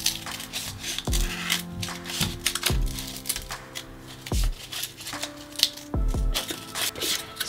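Scissors cut around a cardboard circle for making a pom pom, with several crisp snips at an uneven pace, each followed by a short scraping rustle, close to the microphone.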